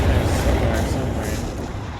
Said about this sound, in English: Got the artillery on.